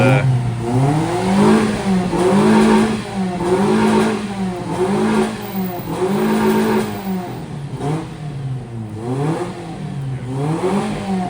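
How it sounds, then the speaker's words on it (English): A 1976 Datsun 620 pickup's engine revs repeatedly, climbing and falling in pitch about once a second in steady, loud cycles close by. "revving the engine"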